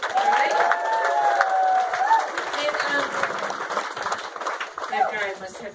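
Applause and cheering from a comedy club crowd for a DJ, a continuous wash of clapping with a whoop rising above it and voices mixed in.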